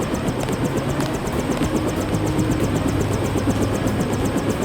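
Helicopter in the video game Deus Ex: Revision, a steady rhythmic rotor chop with a continuous engine drone, loud and constant throughout with no talking.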